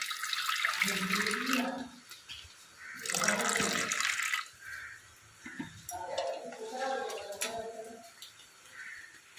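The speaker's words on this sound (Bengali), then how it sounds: "এর মধ্যে একটু জল দিয়ে দেবো" Water splashes into washed lentils in a pot in a few separate pours, close, with gurgling between them and quieter clinks toward the end.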